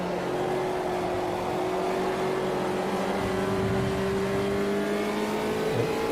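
The race car engine in Automobilista 2 at Road America, chasing a Volkswagen Beetle, drones steadily at high revs and sustains a loud whine with slowly rising pitch throughout, with no break.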